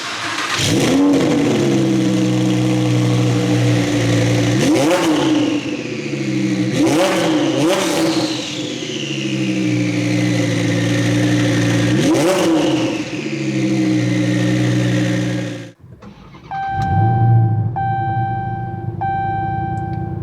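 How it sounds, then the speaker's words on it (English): A Dodge Charger Hellcat Redeye with a 797 hp supercharged V8 starts and revs hard in several loud, close blips that rise and fall, then cuts off abruptly, leaving a short electronic chime from the car. "When you start the Hellcat up, it will recognize that you have the red key in the car."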